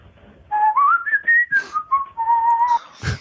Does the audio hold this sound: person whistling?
yes